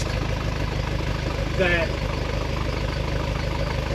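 A car engine idles steadily while warming up, a continuous low rumble with faint mechanical valvetrain ticking from the rocker arms, and a brief spoken word sits over it.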